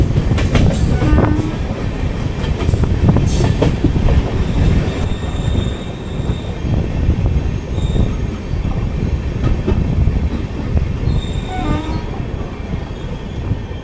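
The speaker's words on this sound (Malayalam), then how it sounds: "നമ്മൾ സത്യസായി പ്രശാന്തി നിലയം സ്റ്റേഷനോട് കയറാൻ പോവാണ്." The Kondaveedu Express pulls into Sathyasai Prashanti Nilayam station, a continuous loud rumble of rolling wheels with repeated high metallic squeals and clacks throughout.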